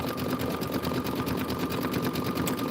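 An embroidery sewing machine stitches out a corn stalk design with a steady, fast mechanical whir and rapid needle ticking, close and continuous without pauses.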